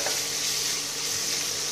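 Samosa filling with ginger fries in ghee and oil, giving a steady, close, even sizzle that runs without pause.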